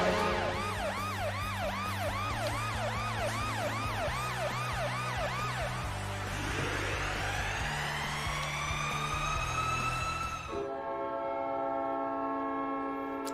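An NHL goal horn with a deep, Mack-truck-like chord blares over a rapidly whooping siren, which then climbs in one long sweep before cutting to the sustained horn alone.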